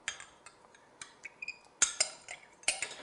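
Utensil clinks and scrapes against a mixing bowl while red velvet cupcake batter with buttermilk is stirred, giving a run of light, irregular taps that is close and moderately quiet, with a few sharper clinks toward the end.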